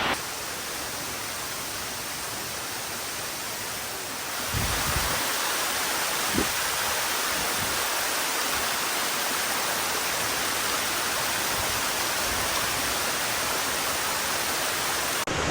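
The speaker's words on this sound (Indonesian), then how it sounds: "Kemudian di bawah ini terdapat aliran sungai." A river flowing below Titi Waterfall sends up a steady, dense broadband rush of water that holds at an even level throughout, with a few low thumps and splashes breaking through midway.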